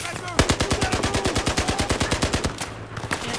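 Rapid automatic gunfire from the video game Battlefield 4, a steady stream of about twenty close, loud shots in quick succession, then a brief pause and a few scattered final rounds.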